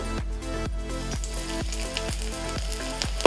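Finely chopped garlic sizzling in ghee in a wok, a loud continuous crackle close by, with a regular series of short stirring strokes under it and no speech.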